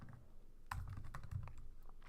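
Quiet typing on a computer keyboard, an uneven patter of soft key clicks over faint room noise with no one speaking.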